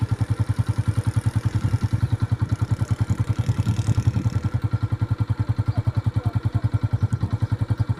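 A motorcycle engine thumps as the bike is ridden up a climb. A fast, even chug of low pulses carries loudly and close for the whole stretch, with no clear talk over it.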